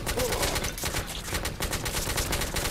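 Rapid, steady gunfire from a video game set in The Order 1886, a dense rattling stream of shots at moderate volume, continuous without pauses.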